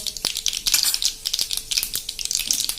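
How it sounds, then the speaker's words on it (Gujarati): Mustard and fenugreek seeds crackle in hot oil for a bottle gourd sambharo, a dense run of sharp pops and spits close by with no talking. "અને રાઈ મેથી ક્રકલ થાય"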